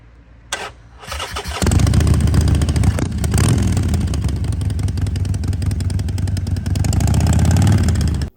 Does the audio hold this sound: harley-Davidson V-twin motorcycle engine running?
yes